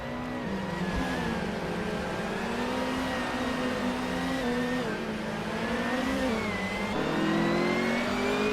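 A classic 2007 BMW 320 and other WTC-class race cars accelerating off the line in a racing video game, a loud continuous engine roar that climbs in pitch through several gear changes, with overlapping engines.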